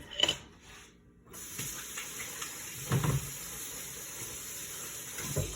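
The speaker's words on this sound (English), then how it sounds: "Let me wash my hands." Tap water runs steadily into a kitchen sink while hands are rinsed during Heath bar cake preparation, a continuous moderate hiss with brief splashy bursts, close and without talk.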